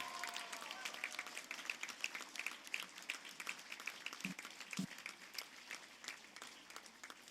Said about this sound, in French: Et je vous demande cette fois, chers diplômés, d'applaudir vos parents, vos amis qui vous ont accompagnés pendant toute cette période.